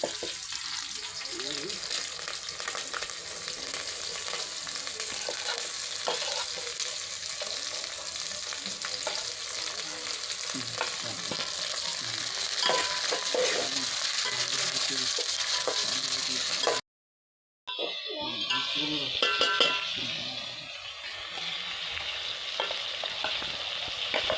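Onion and tomato fry and get stirred in a pan, a steady broadband sizzle with scraping strokes running throughout, briefly cutting out for a moment before resuming, loud and close.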